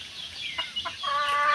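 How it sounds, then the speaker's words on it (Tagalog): Chickens cluck and chirp close by while feeding, a few short calls rising into a steady run of clucking. "Nangapaka na po ang mga manok."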